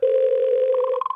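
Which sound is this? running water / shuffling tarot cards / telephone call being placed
telephone call being placed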